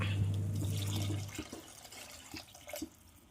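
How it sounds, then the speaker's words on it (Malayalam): Water pours and splashes into a pan of mackerel curry with softened tomatoes, starting with a low rumbling gush and then breaking into lighter, scattered splashes that fade out. Nobody speaks. "ഇനി നമുക്ക് വെള്ളം ഒഴിച്ചു കൊടുക്കാം."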